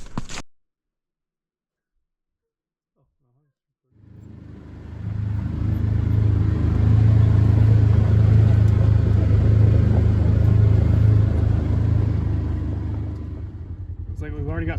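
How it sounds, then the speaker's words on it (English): A black pickup truck on a farm starts up after a brief silence and rumbles along, its low engine drone building and holding steady, close by, with a voice briefly heard. "let's get in the black truck, go home"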